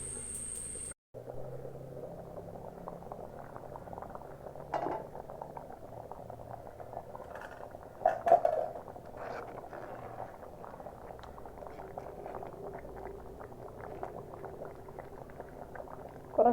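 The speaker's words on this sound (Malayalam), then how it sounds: "ഇനി അടച്ച് വെച്ച് ഒരു അഞ്ച് മിനിറ്റോളം ലോ ഫ്ലെയിമിൽ വെച്ചെടുക്കാം" Curry simmering covered on a low flame, with a faint, steady bubbling and soft lid clinks throughout, quiet and close.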